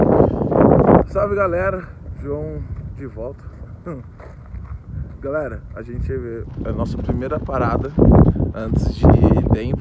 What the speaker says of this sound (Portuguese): já vou pedindo desculpa pelo vento, que tá ventando bastante aqui onde a gente tá